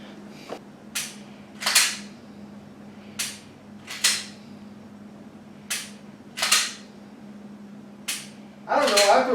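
Pistol shots from a Glock 19 with an out-of-the-box open sight, fired at 30 feet by another shooter: about nine sharp cracks spaced irregularly over several seconds, each with a short ringing tail, over a steady low hum and ending in a burst of noise.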